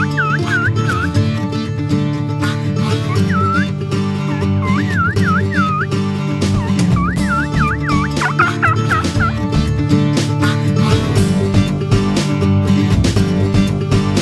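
Several wild turkey toms gobble repeatedly in loud, rapid bursts as they come running toward hunting decoys outdoors, the calls rising over a dense wash of other birds and wind.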